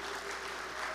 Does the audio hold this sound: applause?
yes